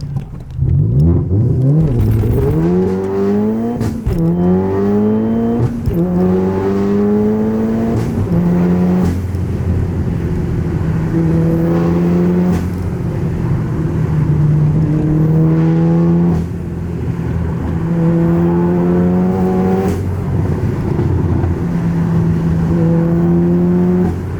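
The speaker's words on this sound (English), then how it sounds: "the engines are so good, 2 litre, 407 brake though, that's nuts" A manual Volkswagen Golf R with a 2-litre engine making 407 bhp pulls hard through the gears, its loud engine note sweeping up in repeated rising runs broken by short dips at each shift.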